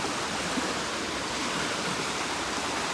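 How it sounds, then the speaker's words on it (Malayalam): Water running out of a pond during monsoon season, a steady broadband rush of flowing water heard close and fairly loud, unbroken throughout with no voices. "ആ കുളത്തിൽ നിന്നൊക്കെ വരുന്ന വെള്ളം കേട്ടോ ഇതിങ്ങനെ ഒഴുകി വരുന്ന"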